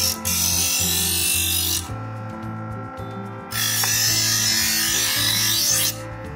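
Kitchen knife drawn through a 4-in-1 electric knife sharpener with spring-loaded wheels: a motor hum runs throughout while two loud grinding passes of the blade, each lasting a couple of seconds, rise over it.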